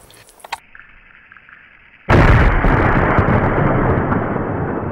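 A single rifle shot rings out while hunting axis deer stags. After a quiet lead-in it is an abrupt, very loud blast about two seconds in, with a long rumbling tail.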